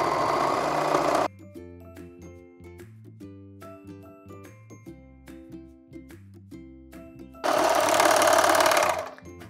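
A sewing machine stitches the side seam of a t-shirt dress in two loud buzzing bursts of rapid mechanical stitching, one at the start and one near the end, with quieter tonal music filling the gap between.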